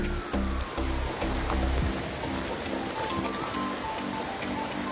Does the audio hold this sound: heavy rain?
yes